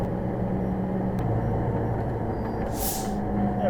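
A truck on an Italian road rumbles steadily nearby, and partway through its air brakes let out a sharp hissing release over the constant traffic drone.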